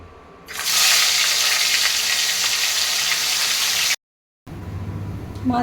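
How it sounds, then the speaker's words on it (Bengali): Rui fish frying in very hot oil in a kadai gives a loud, steady sizzle that starts abruptly and holds close up, cuts out briefly, then returns more quietly. "এই তেলটাতে এবার মাছগুলোকে আমি ভেজে নেব"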